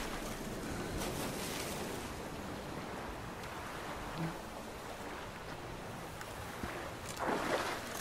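A small rowing boat moves across open water in The Witcher 3, with a steady wash of waves and water noise throughout and a slightly louder splash near the end.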